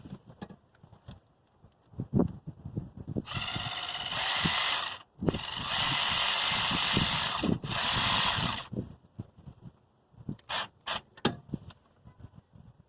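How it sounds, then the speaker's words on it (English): Power tool working on a 2001 Camaro SS exhaust: two sustained bursts of loud whirring ratchet noise, each a few seconds long, framed by scattered clicks, taps and metallic handling sounds. "Love power tools."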